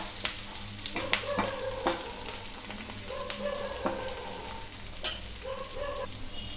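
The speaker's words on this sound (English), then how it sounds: "at this stage we have to add red chillies, fry them for some time" Red chillies frying in a pan for paneer butter masala: a dense, loud, continuous sizzle with occasional pops and scrapes of stirring, close up and without speech.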